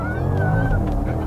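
A 2011 Porsche Panamera Turbo launches under launch control, giving a short burst of loud engine roar with a rising whine as the car pulls away.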